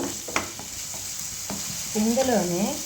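Paneer fries in a pan with a steady close sizzle and a few sharp stirring knocks, then a brief wavering squeal near the end, with no voices.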